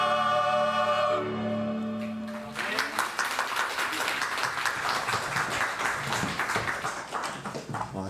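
A church congregation at a Sunday worship service breaks into dense, steady applause just as the choir's hymn ends on sustained notes, the clapping continuing evenly and filling the room.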